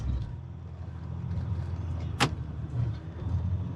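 A 2021 Jeep Gladiator Rubicon EcoDiesel drives off-road in four-wheel drive, heard from inside the cab as a low, steady engine rumble. One sharp click or creak stands out partway through.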